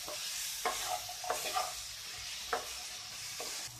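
Jackfruit pieces fry in a pan with a steady, bright sizzle, broken by a few sharp scraping stirs at irregular moments; close and continuous, no voices.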